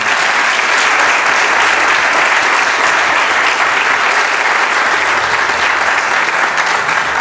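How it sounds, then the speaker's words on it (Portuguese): Audience members at the Gala dos Autores 2020, a Portuguese authors' gala, give a sustained round of applause, dense, loud and even clapping from a large crowd that continues without pause throughout. "Uma salva de palmas ao Pedro e à Almira também."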